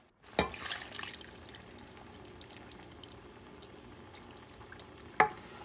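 Beef stock is poured into a pumpkin and pork stew in a pot, a soft liquid splash and gurgle at the start settling into a quiet steady simmer, with a sharper clink near the end.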